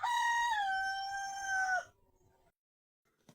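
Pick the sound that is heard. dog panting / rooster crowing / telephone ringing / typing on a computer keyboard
rooster crowing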